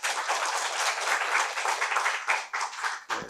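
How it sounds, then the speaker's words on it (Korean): An audience claps for a National Assembly member introduced at a Jeju Forum energy-policy session, with steady, dense applause that thins and breaks up near the end. "박수로 부탁드리겠습니다"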